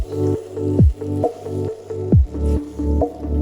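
Leftover idli pieces being stirred together with soy, tomato and chilli sauces, giving soft, wet squishing and squelching sounds in a steady repeated rhythm, close up with no talking.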